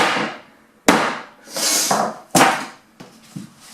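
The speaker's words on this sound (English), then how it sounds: "you need to give them a couple of sharp bangs" A tray of freshly piped French macarons is banged sharply on a countertop to settle them and release air bubbles, giving two or three loud, hard thumps with short pauses between, close by and with no talking.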